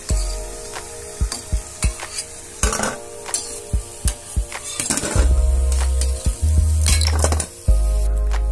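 Mangalore bonda fry in oil in a pan on a stove at medium flame, giving a steady sizzle broken by repeated sharp clinks and scrapes of a metal utensil; no one speaks.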